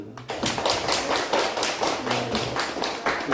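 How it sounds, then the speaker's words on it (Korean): A church congregation claps together in quick, even applause during a Sunday service, moderately loud and steady for a few seconds, with no talking. "여러분 축하의 박수를 일단 드리고요"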